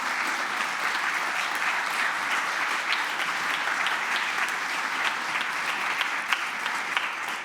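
Sustained audience applause at a festive nursing and midwifery faculty gathering, a dense, even wash of many hands clapping that holds steady and loud throughout.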